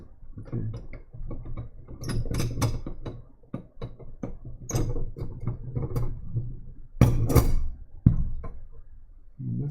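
A Chinese name seal is hand-carved in negative style, the strokes cut out of the stone, giving irregular scraping, scratching and clicking tool sounds, close and fairly quiet, with a few sharper bursts and pauses between strokes.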